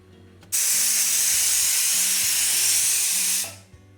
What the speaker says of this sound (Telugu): కుక్కర్కి 2 విజిల్స్ వచ్చేసింది, బట్ ప్రెషర్ పోయేంత వరకు వెయిట్ చేయాలి